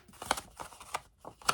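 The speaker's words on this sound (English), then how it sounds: "grab our scissors, and we are just going to cut down on that score line" Scissors snip through cardstock along a score line in a handful of short, quiet crisp cuts, spaced unevenly and heard close up without any talking.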